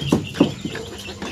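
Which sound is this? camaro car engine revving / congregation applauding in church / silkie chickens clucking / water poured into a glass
silkie chickens clucking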